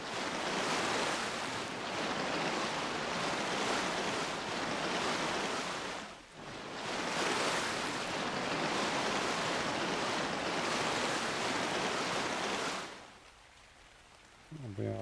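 Water in a building video game: a steady broadband rush like waves or surf, loud and even across two long stretches with a brief dip between, then dropping away suddenly near the end.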